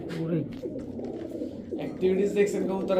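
A domestic fancy pigeon gives soft, throaty, repeated coos close by, with other birds and a faint voice mingling in the background.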